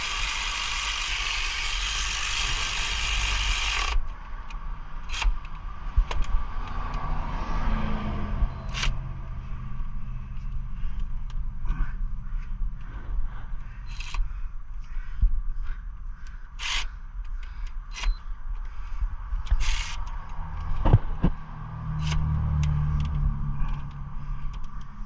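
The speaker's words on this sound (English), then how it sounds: "Go ahead and grab your 12mm and button them down." Bolts on the AC compressor of a 2003–2008 Toyota Matrix tightened with a 12mm ratchet, giving scattered close metallic clicks and taps with small scrapes, after a few seconds of broad hiss at the start.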